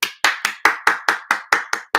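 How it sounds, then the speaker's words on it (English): Nine sharp, evenly spaced claps from a single pair of hands, close and dry, about four per second in a steady rhythm with no voices. "you get a round of applause"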